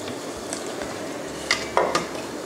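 A spoon skims foam off simmering rice porridge with millet: soft scrapes and a couple of light clinks of the spoon against the pot over a low bubbling simmer.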